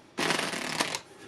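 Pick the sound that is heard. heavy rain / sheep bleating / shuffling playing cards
shuffling playing cards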